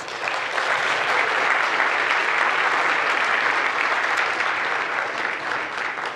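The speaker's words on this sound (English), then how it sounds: "Can we please have a round of applause for our judges?" A room full of people gives a round of applause for the judges at a venture pitch competition grand final, dense and steady clapping that stays loud and even for about six seconds.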